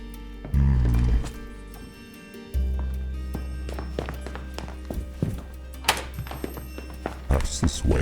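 A bell rings in the horror video game Ad Infinitum, heard as a few ringing tones over low rumbling game ambience with thuds and scattered clanks, and a voice talks briefly.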